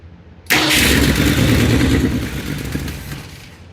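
A 1966 Mustang in garage-rescue condition cranks and fires up abruptly, then runs loudly with a rough, steady roar that slowly fades as the engine struggles to keep going.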